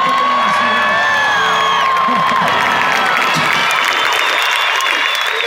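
Large arena crowd at a religious rally in a sports palace, loud sustained cheering and applause with whoops and shrill whistles, continuous and dense throughout.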